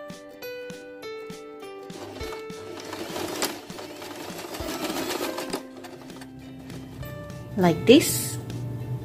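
Sewing machine running a regular straight stitch on fabric for a baby's turban bow headband, a soft rapid mechanical patter under a voice, with a brief rattling burst near the end.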